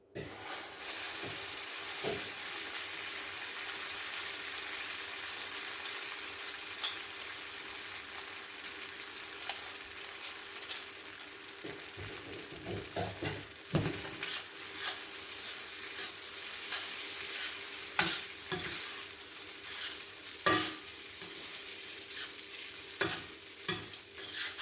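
Noodles stirred into a pan of sizzling sage butter sauce, giving a steady close frying hiss with scattered scraping stir clicks throughout, no talking.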